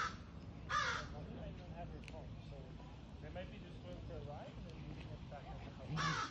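A crow caws a couple of times, near and clear, against steady outdoor ambience in a botanical garden, with people talking over much of the scene.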